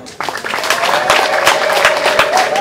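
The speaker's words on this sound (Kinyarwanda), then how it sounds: "Ndashaka amashyi n'impundu zo mu Kinyaga." Wedding guests in Kigali break into brisk, sustained clapping overlaid with high, warbling ululation from several women, loud and close, swelling after a brief quiet start.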